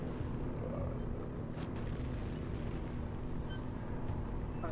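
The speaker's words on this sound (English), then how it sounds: "Oh, it's a helicopter." A steady low rotor drone and engine rumble from a helicopter in the video game Sly Cooper 3: Honor Among Thieves fills the clip continuously, hovering nearby, with no talking.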